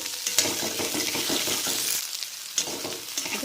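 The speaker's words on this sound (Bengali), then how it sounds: "ওর মধ্যে কেটে রাখা মিষ্টি আলুগুলোকেও দিয়ে দেব এটাকে ভালো করে নাড়তে থাকবো" Onion and sweet potato pieces frying in hot oil, stirred steadily: a continuous sizzle with repeated scraping strokes of a spoon through the pan, close and fairly loud, no voices.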